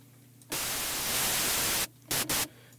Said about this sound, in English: Okay, so that's given us our white noise.